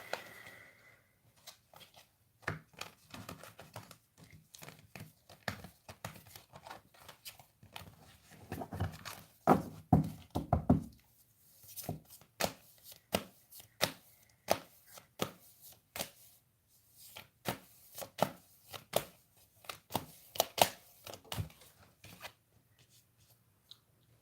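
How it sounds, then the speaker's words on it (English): Tarot cards being shuffled back into the deck, a series of quick dry riffles and taps in irregular bursts with quiet gaps between, close and fairly soft, with no talking. "I'm going to shuffle these back into the deck"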